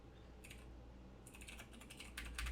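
Computer keyboard keys are tapped in short bursts of quick clicks, quiet and close, first a few isolated strokes, then denser typing toward the end.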